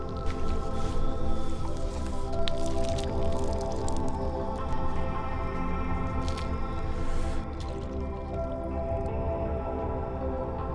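Face and mouth washed with Wayusa plant steeped in hot water, soft wet squishing and dripping close by, continuous over a steady background hum.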